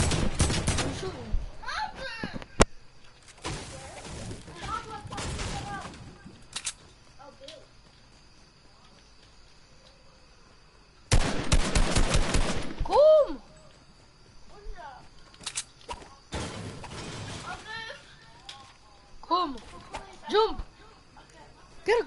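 Rapid bursts of automatic gunfire from a PS4 shooter game come in several long volleys separated by quieter stretches, with players talking over and between the shooting.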